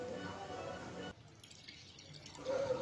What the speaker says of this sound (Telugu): చెంబులో నీళ్ళు తీసుకొచ్చి కుండలో పోయాలి